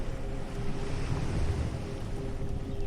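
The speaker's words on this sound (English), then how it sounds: "Let the waves continue." Steady ocean surf rolls in a soft, continuous wash with a low rumbling bed, moderately quiet and unbroken, with no voices over it.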